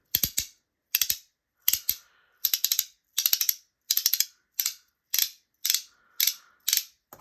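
A Compoform Gorgon haptic slider coin snaps out high-pitched metallic clacks in regular clusters of two to four, close and loud, repeating steadily about every half second with near silence between.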